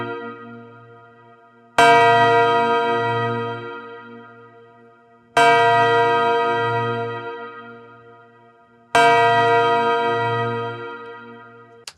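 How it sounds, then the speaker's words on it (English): A sampled bell struck three times in a loop, each sharp bright hit ringing out into a long shimmering decay with a pulsing low hum, evenly spaced about every three and a half seconds. "I've got that kind of attack sound at the beginning where, you hear the bell get hit."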